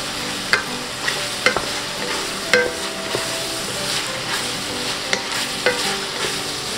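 Cold cuts frying in a pan for carbonara give a steady broadband sizzle, with a utensil scraping and stirring in sharp clicks every second or so, close and moderately loud, with no talking.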